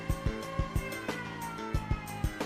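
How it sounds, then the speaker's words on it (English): A repeating alarm siren in the video game Trails in the Sky, with a rhythmic pulsing wail in a military control room and a series of evenly spaced thumping beats. "How much longer do I have to listen to this siren?"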